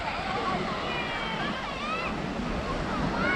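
Steady broadband wash of surf on a beach in Macau, heard outdoors with wind buffeting the microphone and a faint voice underneath.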